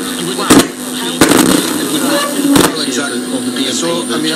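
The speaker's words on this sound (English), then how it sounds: "You can already hear some radio channels right now." A homemade transistor radio tuned across several overlapping stations gives a muddle of faint voices and hiss, broken by sharp bursts of crackling static, steady and moderately loud.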